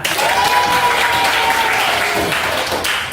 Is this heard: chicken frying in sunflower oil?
no